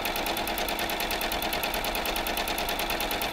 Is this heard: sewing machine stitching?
yes